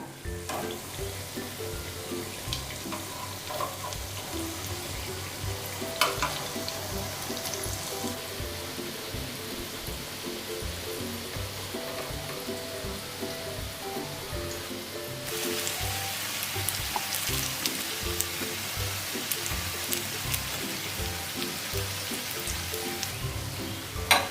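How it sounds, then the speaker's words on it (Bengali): Malabar spinach leaf fritters fry in hot oil with a steady, dense sizzle that runs continuously for the whole stretch, growing slightly brighter and louder midway, with no talking. "পুঁই পাতার বড়া বেশি লাল করে ভাজবো না।"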